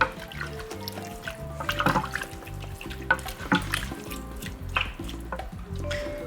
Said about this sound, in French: Je vais ajouter un peu d'eau.